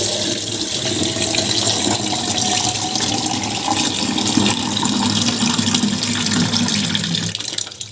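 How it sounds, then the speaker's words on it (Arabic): Tap water pouring steadily over freshly boiled eggs in a pot to cool them, a continuous close rushing splash lasting several seconds with no talking. "نحط عليه مية عشان يبرد"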